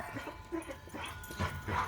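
Dogs barking at a gate in Prattville, Alabama: a short, scrappy burst of yips, whines and barks, moderately close, building louder toward the end, with no talk.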